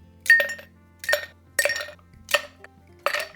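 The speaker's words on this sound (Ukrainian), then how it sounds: "Спершу додаємо лід." Ice cubes go into a cocktail mixing glass for a stirred tequila and vermouth drink, sounding as five separate bright clinks spaced roughly evenly, close and clear over a low steady hum.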